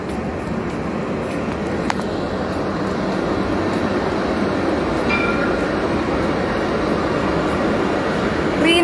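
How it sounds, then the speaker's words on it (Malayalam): A train rumbles past nearby in a steady, loud, broadband roar that swells slightly over nine seconds, with faint rail clicks and a brief squeal mixed in; no one speaks. "ആ ട്രെയിനിൻ്റെ സൗണ്ട് കാരണം ഈ പാട്ട് കേൾക്കാൻ ബുദ്ധിമുട്ടായിരിക്കും"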